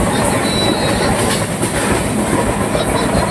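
Tamralipta Express running from Howrah to Digha, a loud, steady roar of wheels and rails with rhythmic clickety-clack and a faint high squeal, continuous throughout.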